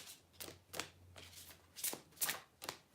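Butterfly Oracle cards being shuffled by hand at close range, with several quick riffling bursts separated by short pauses and no voices, heard during a daily angel card reading.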